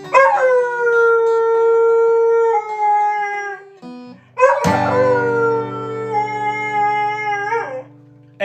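A dog howls loudly and steadily along with singing in two long sustained bouts, close up, with a brief dip between them.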